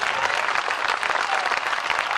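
Audience at a Hindi poetry recital claps in a steady, dense burst of applause that continues throughout with no voices over it.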